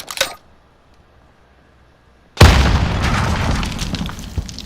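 A grenade launcher tube round in Modern Warfare: a short pop, then a quiet pause, then a sudden loud boom whose rumbling, noisy tail fills the rest of the moment.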